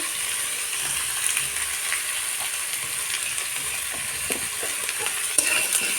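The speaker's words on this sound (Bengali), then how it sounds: "এর মধ্যে এবার সব সবজিগুলো দিয়ে দেবো যেমন আলু বেগুন আর হচ্ছে লঙ্কাটাও এর সঙ্গে একসঙ্গে ভেজে নেবো" Potato, brinjal and green chilli frying in a pan with fenugreek greens, a dense, even sizzle throughout with faint stirring scrapes and a few light clinks, close and steady.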